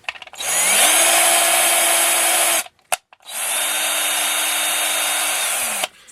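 A drill with a 3.05mm bit spins up twice in two sustained runs, clearing holes in plastic RC car suspension parts, a steady high whine with a dip in pitch under load, separated by a short gap.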